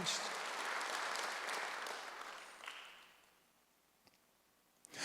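Church congregation clapping during a Sunday worship sermon, a dense burst of applause that gradually fades over a few seconds into near quiet, with a couple of faint clicks afterward.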